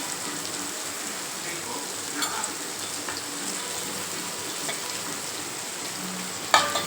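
Anchovies frying with tomato, onion and brinjal in a pan, a steady hissing sizzle with occasional soft stirring scrapes and a sharper clatter near the end.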